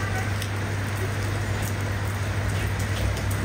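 Steady rain falls in Chiang Rai in northern Thailand, a dense, even patter over a constant low hum that stays unchanged throughout.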